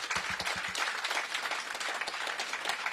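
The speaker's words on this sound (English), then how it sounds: "Please give them a big round of applause." An audience at a Washington, DC mayoral announcement on affordable housing applauds steadily, a dense continuous patter of many hands, with a brief louder cluster of claps near the start.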